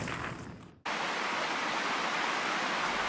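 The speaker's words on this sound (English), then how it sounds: "The Isuzu River flows through the shrine precincts." The Isuzu River flowing through the Ise Shrine precincts, a steady broadband rush of water that is close and constant, briefly cut by a short edit before resuming.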